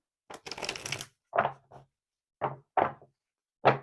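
Tarot cards are shuffled in a quick riffle, followed by several separate soft taps and flicks as the deck is handled, close and quiet.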